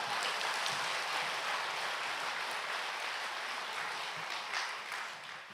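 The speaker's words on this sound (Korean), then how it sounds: "이건 박수 좀 쳐줘요" A church congregation applauds the choir during a Sunday service, a steady, dense round of clapping that fills the whole stretch evenly and tapers slightly near the end, with no talking over it.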